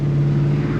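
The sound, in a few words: 1970 Chevelle SS engine exhaust note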